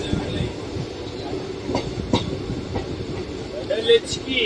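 A late-running passenger train on the Bengaluru–Talaguppa line rolls into a station, its wheels clattering and rumbling with a few sharp metallic squeals near the end.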